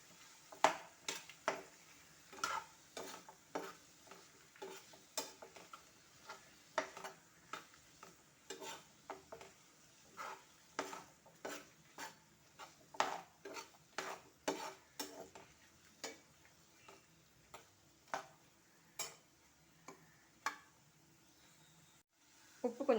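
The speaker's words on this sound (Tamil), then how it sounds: "போட்டு நல்லா அதை வதக்கிப்போம்." Small onions and a handful of mint sautéing in a pan for chutney, with a steady sizzle under repeated close scraping strokes of a spatula stirring the mix, running evenly throughout.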